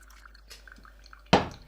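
Water drips through a V60 pour-over coffee filter: faint, sparse drips over quiet background, then one sudden, louder splash near the end.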